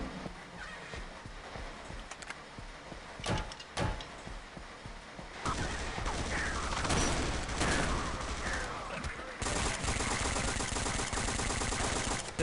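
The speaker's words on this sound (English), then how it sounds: "This sounds like the Half-Life 2 pistol when you hear your PC shooting it as opposed to the player shooting it" Pistol gunfire in a Half-Life mod, resembling the Half-Life 2 pistol: a few sharp, separate shots ring out early, then a denser stretch of rapid firing follows amid game noise.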